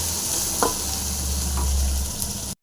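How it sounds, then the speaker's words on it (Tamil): Curry leaves, chilli and onion frying in a pan, a steady close sizzle with a couple of soft stirring scrapes, no voices, cut off abruptly at the end. "கருவேப்பிலை மிளகாய் வெங்காயம் எல்லாம் போட்டாச்சு இப்போ நல்லா ஃப்ரை பண்ணுங்க நல்லா ஃப்ரை ஆகட்டும்"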